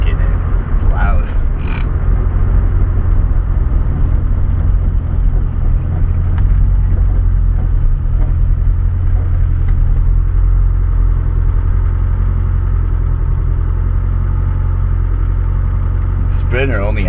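A Ford Festiva engine idles with a quiet exhaust, giving a steady low hum close by that runs the whole time, with a few brief clatters near the start and the end.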